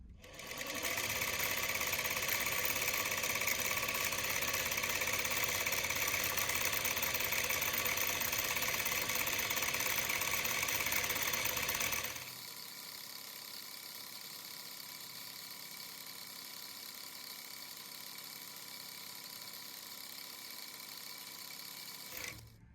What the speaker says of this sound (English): push your bobbin winder into position and let's wind